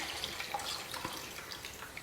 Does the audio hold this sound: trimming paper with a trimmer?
no